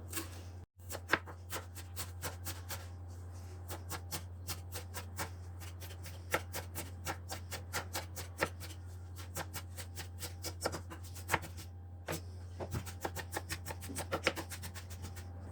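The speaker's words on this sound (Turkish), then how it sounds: "maydanozlarımızı iyice yıkadıktan sonra şimdi ince ince doğrayalım" Rapid, steady knife taps on a cutting board, finely chopping washed parsley, continuing with brief pauses over a low constant hum.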